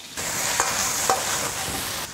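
Tofu, shiitake mushrooms, wood ear fungus and bamboo shoots are stir-fried in lard with ginger, scallion and garlic, giving a steady close sizzle broken by a few sharp scrapes of the spatula against the wok.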